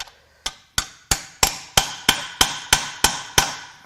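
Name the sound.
hammering on a stuck Powerstroke engine part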